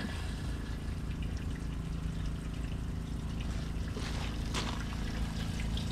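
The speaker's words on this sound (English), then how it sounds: "I'll flush the toilet." Toilet flushing and water running in an RV being de-winterized, a steady trickling flow throughout with a brief louder gush near the end.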